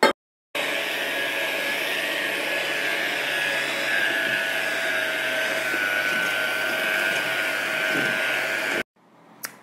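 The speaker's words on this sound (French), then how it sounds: "on va passer tout ça au batteur électrique" An electric hand mixer beating cake batter in a bowl, a steady loud whirring drone running continuously for about eight seconds before cutting off abruptly, with no voices.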